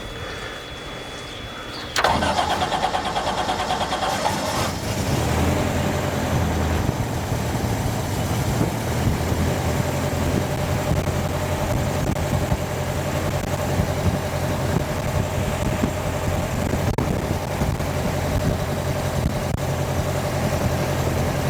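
A Sonex AeroVee turbo aircraft engine catches and then idles while warming up, a loud, steady droning rumble that stays even after the abrupt start.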